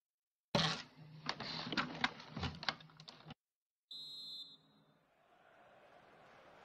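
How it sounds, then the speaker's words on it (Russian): A short, sharp electronic referee whistle blast in the FIFA 16 video game during a Belarus versus Brazil match, following a stretch of crowd noise and then giving way to a low stadium murmur. "Арбитр дает свисток к началу второго тайма"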